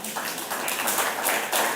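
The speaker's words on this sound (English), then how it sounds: "Let's clap for them for the last time." Conference audience at an agriculture and climate innovation event in Tanzania clapping for the panels, a dense, steady round of applause filling the whole stretch, fairly close and even in loudness.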